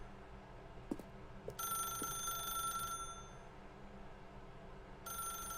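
A telephone rings in The Stanley Parable: a faint, shrill electronic trill lasting over a second, then a second ring starting near the end, over quiet room tone with a few soft knocks.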